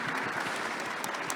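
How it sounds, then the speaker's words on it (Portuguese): A short burst of clapping from an audience at a book fair panel, steady and even for just over a second. "uma salva de palmas."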